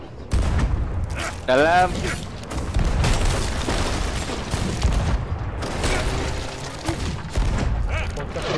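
Gunfire in a video game crackles in dense bursts over a busy, continuous mix of booms and mechanical clatter, with voices talking throughout and a brief rising tonal sweep near the start.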